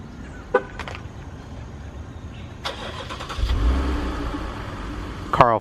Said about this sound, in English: Car will fire right up.